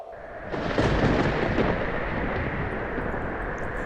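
A broad, roaring rumble of a thunderstorm swells after a quiet start and holds steady, loud and enveloping.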